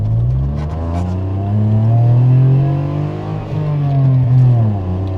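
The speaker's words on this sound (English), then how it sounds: "This is actually the cheapest exhaust you can buy for this. This is way louder." A Toyota Aygo fitted with the cheapest aftermarket exhaust revs hard and loud, its deep, raspy note climbing and falling through several throttle blips close by.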